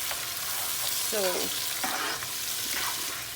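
Tomatoes and chili pepper fry in a pan for Creole spaghetti with chicken, a constant hissing sizzle broken by a few scraping stirs of the spoon, with a brief spoken word over it.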